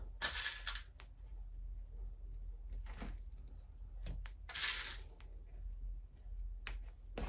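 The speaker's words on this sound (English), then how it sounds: "punch a hole, making sure that it is centered" A leather hole punch is pressed through a crossbody bag strap beside a tri-slide buckle, giving several short, faint crunching snaps separated by quiet pauses.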